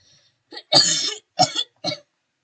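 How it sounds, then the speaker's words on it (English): Several short, harsh coughs in quick succession, close and loud, with brief pauses between them. "Cough cough."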